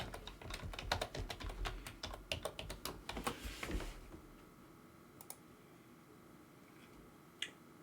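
Rapid typing of a password on a computer keyboard, a dense run of close, crisp key clicks for about four seconds, then quiet with a couple of isolated taps.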